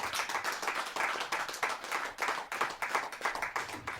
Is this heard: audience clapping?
yes